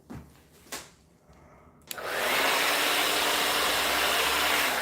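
A hair dryer used by a hairdresser switches on after a few small clicks and handling noises, then blows with a loud, steady broadband whoosh that runs continuously to the end.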